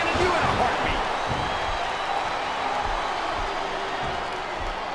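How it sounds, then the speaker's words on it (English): In the SmackDown vs Raw 2007 wrestling video game, an arena crowd produces a constant broadband roar with scattered thumps. Commentary voices talk over the crowd throughout. "Listen to the crowd, JR."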